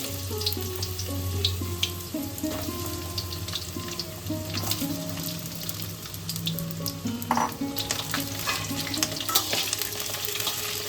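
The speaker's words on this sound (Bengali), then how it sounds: "আমি পটলগুলোকে প্রথমে ভেজে নিচ্ছি।" Pointed gourd fries in hot mustard oil in a kadai, a continuous close sizzle broken by occasional scraping stirs and spatters, with no one talking.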